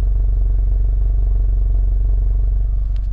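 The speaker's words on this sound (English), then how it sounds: "you have some quad tips exhaust, and I will shut up and I will put it right here close so you can hear." A 2024 Subaru WRX TR with a quad-tip exhaust idles close by, giving a steady, even low rumble with a slight tone and no talking.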